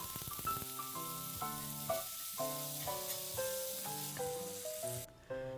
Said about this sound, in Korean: 육즙 가득 먹음직스럽고 촉촉한 소시지 구워졌어요